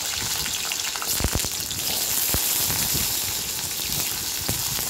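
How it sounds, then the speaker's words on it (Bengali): Eggplant pieces frying in hot white oil, a steady close sizzle and crackle with scattered sharp pops, loud and continuous without any voices. "বেগুনটা দিয়ে দিলাম।"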